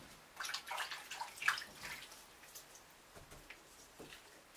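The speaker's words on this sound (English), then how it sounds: "I'll put it in warm water just to keep the temperature stable." Soft water splashing and sloshing as a film developing tank is set into a basin of warm water, faint and close, trailing off into quiet drips.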